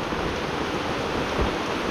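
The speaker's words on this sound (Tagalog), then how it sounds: "Kasi umuulan tas umaaraw." Rain falls outdoors during a family day outing, a steady, even hiss of drops with a faint low rumble underneath, continuous and unbroken.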